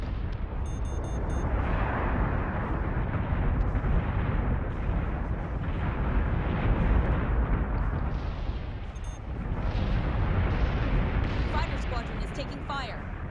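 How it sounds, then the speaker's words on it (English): Torpedoes launch and detonate during space combat in the video game Battlestar Galactica Deadlock: a continuous roar of heavy booms and rumbling blasts, with voices talking through the battle. "Fire those torpedoes"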